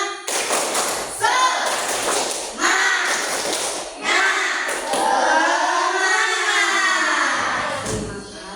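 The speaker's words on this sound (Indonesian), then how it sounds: "Tepuk semangat." Schoolchildren in an Indonesian classroom perform a rhythmic 'tepuk semangat' clapping cheer, their sharp hand claps and thumps in a patterned beat with voices chanting along, loud and close throughout.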